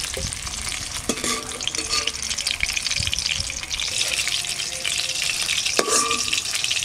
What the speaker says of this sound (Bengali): কপিটা আমি এইভাবে ভাজবো